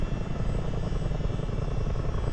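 A Miltech CH-47 Chinook helicopter in Microsoft Flight Simulator gives a steady, loud, dense rotor and engine drone with a low throbbing beat, continuous and unbroken, with no voices.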